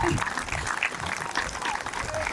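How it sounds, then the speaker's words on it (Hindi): A large crowd at an International Yoga Day celebration in Ahmedabad claps steadily, a dense, lively wash of applause with a voice calling out briefly over it. "तालियां बजती रहे, तालियां बजती रहे अहमदाबाद"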